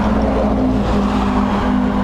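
A truck at Dublin Airport rolls past with a steady low engine drone and a sustained tonal hum that dips briefly mid-pass, loud and close, with no talking.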